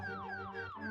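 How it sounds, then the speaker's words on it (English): Short repeated descending electronic tones sweep downward in quick succession, a buzzer-like chiptune sound from Zelda: A Link to the Past, fairly faint and clean with no voices. "That was a game show buzzer sound if I've ever heard one"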